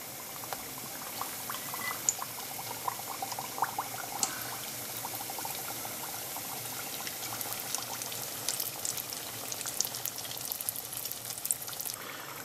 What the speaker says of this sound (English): I've got the oil now to the right temperature and I'm putting the pancake rolls in